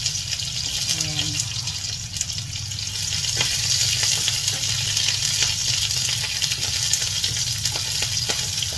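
Garlic, ginger and onion frying in a hot pan, a continuous bright sizzle with scattered crackles and a few stirring clinks, steady and close throughout.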